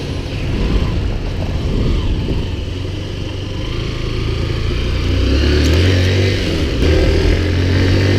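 A motorcycle or similar road vehicle being ridden with its engine still cold and in a high gear, giving a steady close engine drone that builds slightly in the second half, with no talking.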